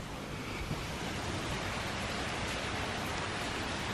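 A heavy storm with rain pouring down like a waterfall makes a dense, loud, unbroken roar of rushing water and wind that fills the whole stretch, with no voices.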